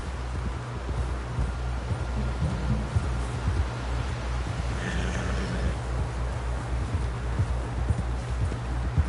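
Horse hooves clip-clop in a fast, steady gallop in Red Dead Redemption 2, loud and close, beneath wind noise and low rumbling, with brief voices in the background.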